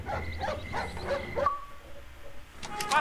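A dog in the Up video game gives a few short yips and barks over busy game music and effects, quiet and brief, followed by a higher squeal near the end.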